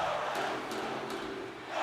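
An arena crowd in the ice hockey video game NHL 25, set in Las Vegas, Nevada, keeps up a steady, loud roar and cheer, with a swell near the end.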